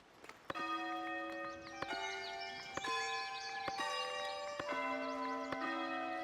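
Church bell in the medieval city-building game Foundations rings in a slow series of about six clear, resonant strikes, each with a long ringing decay over quiet background music, with no talking.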